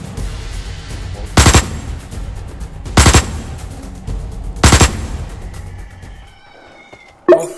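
Three evenly spaced bursts of weapon fire from the video game Osiris New Dawn ring out loud and close, each a short rattling blast about a second and a half apart, followed by quieter ambience and a final sharp hit.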